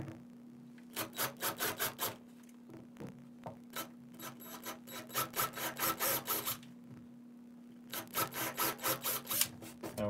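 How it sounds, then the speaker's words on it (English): A powered drill hums steadily while the bit bites in rhythmic grinding bursts, loud and close, with brief pauses between runs, drilling holes to install a Victorian twist doorbell. "So let me do some drilling."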